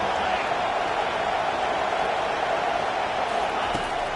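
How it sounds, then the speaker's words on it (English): Stadium crowd noise from the college football video game CFB25, a steady, loud wash of roaring fans that holds evenly throughout without breaks. "This crowd bringing the energy and noise early."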